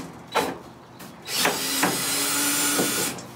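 Phillips screws being backed out of a Ford F-150 tailgate panel, giving a few sharp clicks and knocks plus a brief whirring stretch near and at moderate level, with no talk.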